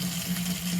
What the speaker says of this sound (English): I've been running water for 5 minutes.